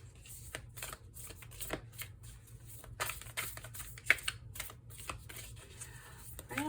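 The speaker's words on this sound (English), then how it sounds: "I'm going to shuffle a little bit more." Tarot cards being shuffled by hand, a steady run of soft riffling flutters and light slaps with brief pauses, close and fairly quiet over a low background hum.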